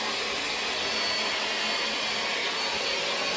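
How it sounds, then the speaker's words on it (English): A Hoover ONEPWR cordless battery vacuum cleaner runs with a steady, loud, broadband whine and rush of airflow, unbroken throughout with no talking. "So yeah, the 1 power cordless Hoover."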